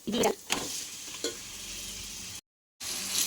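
Potato, beans and tomato frying lightly in a pan, a soft sizzle with a few clattering stirs and scrapes near the start, quiet and close, with a brief gap of silence before the sizzle resumes.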